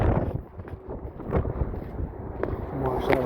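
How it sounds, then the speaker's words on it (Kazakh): Strong gusty wind blowing at a bay in Zhambyl region, Kazakhstan, a steady roar buffeting the microphone with rising and falling gusts across the whole stretch. "Жел деген страшно болып тұр."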